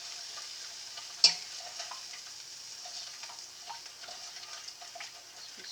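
A spoon stirs a simmering pot of no-bake blondie oat mixture, with one sharp clack against the pot early on and then soft, faint scraping and light bubbling ticks.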